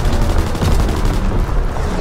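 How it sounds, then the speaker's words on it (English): Mortar strike explosions in Call of Duty WWII pound continuously, a dense, loud barrage of booms and blasts running without pause through the whole stretch. "Mortar strike inbound."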